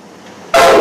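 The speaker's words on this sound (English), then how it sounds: "It's Amtrak diesels." Amtrak diesel locomotives at Croydon Station burst in with a sudden loud, harsh roar after a moment of low background hum.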